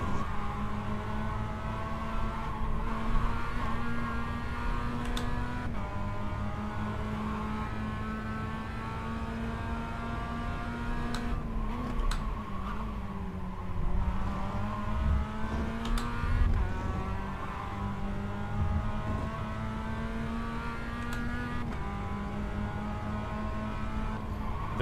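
A Mazda MX-5 ND3 Miata in the iRacing simulator drones steadily from on-board, its engine pitch climbing through the revs and dropping sharply at several gear changes, with no voices.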